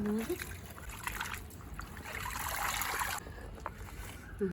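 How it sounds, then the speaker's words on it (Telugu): Water is poured onto the soil of a potted lotus plant being repotted in a terrace garden, making a soft, close trickle and splash that runs steadily for a few seconds before stopping. "ఇట్లా కొంచెం వాటర్ పోసి దీన్ని లూజ్ చేయాలి ఫ్రెండ్స్"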